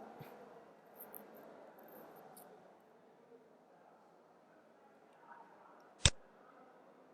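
A single sharp computer mouse click, close and brief, standing out against a quiet room with faint soft background noise.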